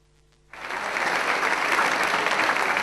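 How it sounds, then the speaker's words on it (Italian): Theatre audience at the Teatro Comunale bursts into applause for a performance of La Traviata, starting abruptly after a brief quiet moment and holding as a loud, dense, sustained roar of clapping. "oltre 10 minuti di applausi a scena aperta"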